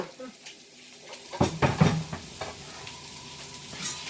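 A whole package of baby bella mushrooms sizzles in a frying pan for beef stroganoff, with a few clattering stirs in the middle and a steady low frying hiss before and after.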